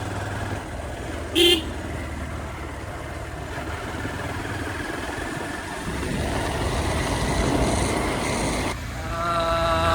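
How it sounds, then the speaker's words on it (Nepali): Steady motorcycle engine drone while riding, with road and wind noise throughout and a brief horn toot early on. "यहाँ दिलीपले बाइक चलाइरह"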